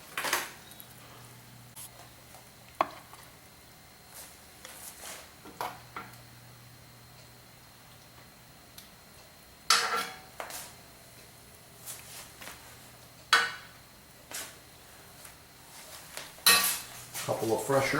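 A serving utensil scrapes and clinks against a dish while beef stew and pan-fried potatoes are plated, giving sparse, quiet taps and clatters spread over a faint, steady background.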